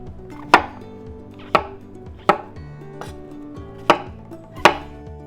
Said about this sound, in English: 250 grams of baby bella mushrooms, cut them in half or quarters